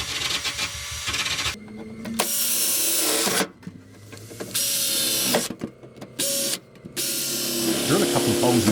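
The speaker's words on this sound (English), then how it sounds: "Run the finger sander around the hole to take off any sharp edges." A finger sander smooths the sharp edges of a cut hole in a Volkswagen Beetle's steel floor pan, running in loud abrasive bursts with several short pauses between passes.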